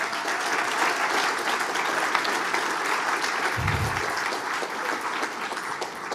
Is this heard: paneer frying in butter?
no